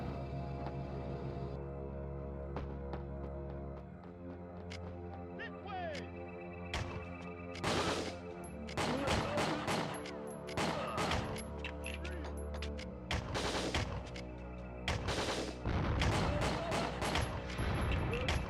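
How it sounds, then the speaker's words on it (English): Explosions and gunfire burst in Winback: Covert Operations on PS2, with sharp loud blasts and rapid volleys repeating through the second half over a steady game soundtrack. "Why are things exploding?"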